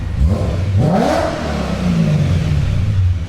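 A BMW E92 M3 engine revs hard nearby, rising sharply in pitch to a loud roar, then dropping back to a rumbling idle-like burble.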